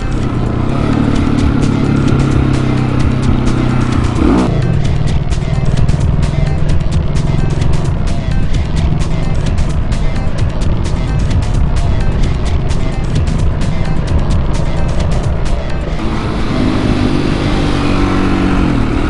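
A motorcycle being ridden on a very windy day, the engine droning continuously beneath heavy, roaring wind buffeting, loud and close, with a brief shift in engine tone partway through.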